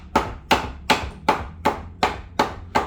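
Eight sharp, evenly spaced hammer blows ring out close and loud, about two and a half per second, while a piece of functional art is being made, with no talking.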